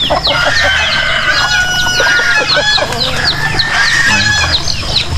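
Chickens and chicks fill a farm yard with a dense chorus of clucks and high peeping, and a rooster's crow stands out among them. The flock is close, loud and continuous for the whole stretch.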